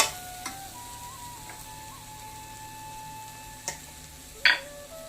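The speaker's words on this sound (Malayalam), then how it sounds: "നന്നായി ഇളക്കുക." A spoon stirs crab curry with chili and pepper powder in a pan, giving a few sparse scrapes and clinks over a low simmering hiss, with one louder scrape near the end.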